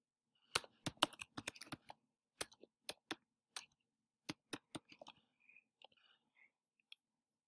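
Typing on a computer keyboard, a quiet room with irregular, crisp key clicks in short bursts that thin out to a few scattered taps toward the end, with no talking.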